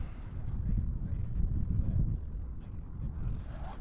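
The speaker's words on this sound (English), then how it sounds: "Wind feels really good up here with Jim." Steady wind buffets the microphone on a hilltop paragliding launch boulder, a low rumbling roar that swells and eases without pause.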